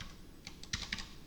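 Typing on a computer keyboard, a handful of soft, quick keystrokes tapping in an irregular rhythm, faint and close, with no voices.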